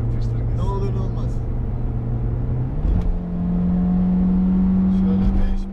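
A 2000 VW Golf 4 engine revs hard at full throttle with a loud, sustained drone. The pitch climbs partway through and then holds high, and a voice talks under the engine noise.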